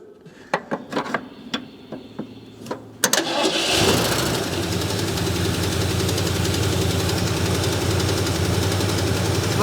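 A 1977 Ford 4x4 barn find, unused for 20 years, cranks in several uneven bursts, then catches and settles into a loud, steady rough idle close by, running alone without voices.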